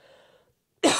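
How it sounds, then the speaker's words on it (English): A single sharp cough bursts out loud and close after a brief faint murmur and a moment of silence. "Got a bit of a cough because of, I think, allergies."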